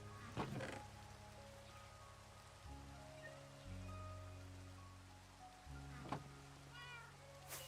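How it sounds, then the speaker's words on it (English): Rain falling in Minecraft, a soft, steady hiss of drops over layered game music tones, with a few brief sharp sounds and an animal-like call, kept faint throughout. "Now it's raining."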